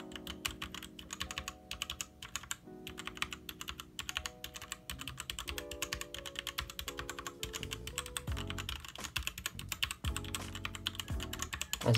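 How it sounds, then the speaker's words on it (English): Fingers type rapidly and continuously on a Drevo Calibur V2 60% keyboard with red switches, a dense stream of close, crisp key clacks with occasional louder strikes, with no voices. "I'm just clicking random buttons so you guys can hear the keyboard"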